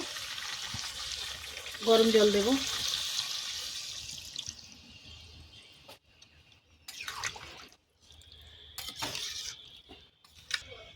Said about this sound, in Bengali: এবার আমি একটু গরম জল দেব